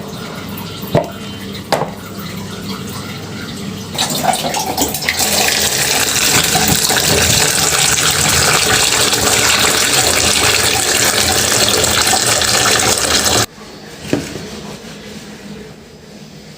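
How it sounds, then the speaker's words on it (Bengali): Eggplants being washed under a running kitchen tap, a loud steady gush of water for about nine seconds, bracketed by quieter handling knocks before and after. "বেগুনগুলো ধুয়ে পরিষ্কার করে ভাজি করে নেব।"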